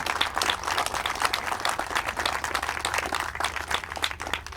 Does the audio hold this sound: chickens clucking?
no